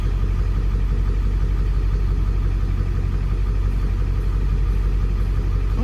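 A 2003 truck with a 7.3 diesel engine idles steadily and loudly up close, a constant low rumble with no other sounds.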